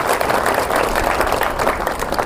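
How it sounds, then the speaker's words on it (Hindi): Crowd applause at an outdoor political speech in a home village, a steady roar of many hands clapping together, continuous and evenly loud with a faint murmur of voices mixed in. "एक बार अपने लिए जोरदार तालियां बजाएं।"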